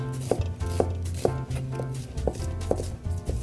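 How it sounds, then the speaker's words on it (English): A knife chops a peeled onion into a French cut on a board, with about eight sharp, evenly spaced thuds close by and soft rubbing between strokes. "Once your onion's peeled, you want to cut it into what is called a French cut."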